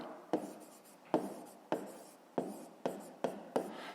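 Close pen scratching on paper during a fifth-grade maths problem, six or so separate quick strokes in an uneven rhythm, each starting sharply and fading, with no talk.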